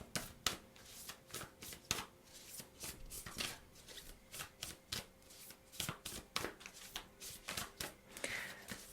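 Tarot cards being shuffled by hand, a steady run of crisp riffling and slapping bursts, close and fairly quiet, with no talking over them.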